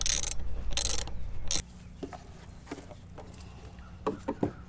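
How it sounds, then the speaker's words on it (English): A socket wrench drives a lag bolt through an L bracket into a wooden flower box, a few faint scattered ratcheting clicks after some brief rustling handling noises at the start. "We're going to get it started a little bit and use a socket wrench to drive it in."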